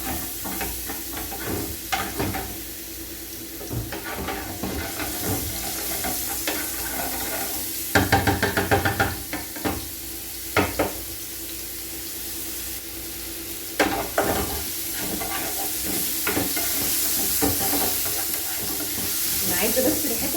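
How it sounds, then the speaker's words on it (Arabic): Two garlic cloves fry in a pan, a low continuous sizzle broken by sharp stirring scrapes and clatters, with someone talking over the cooking. "انا هنزل بفصين توم"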